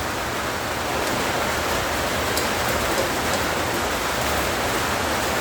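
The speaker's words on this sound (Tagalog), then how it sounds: "Ang lakas ng ulan guys" Heavy rain pours down steadily in a dense, unbroken roar, loud and close with no pauses, a constant hiss of water falling on surfaces.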